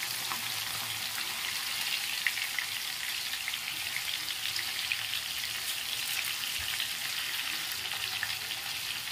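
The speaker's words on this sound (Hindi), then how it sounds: "तो एक साइड से हो गया अच्छे से फ्राई, इसको पलट लेते हैं दूसरी तरफ भी ऐसे 2-3 मिनट के लिए" Fish frying in a pan, a steady close sizzle of hot oil with fine crackling that continues evenly throughout, with no talking.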